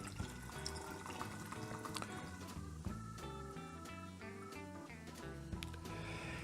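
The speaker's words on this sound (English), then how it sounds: "So I'm gonna put some beer." Beer pours into a cocktail mix over ice, a soft liquid trickle and fizz running steadily and faintly throughout, with light clinks and no voices.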